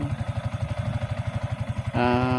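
Yamaha Sniper 155 motorcycle engine close up, a rapid rhythmic pulsing idle that suddenly shifts into a higher, smoother, steady drone near the end.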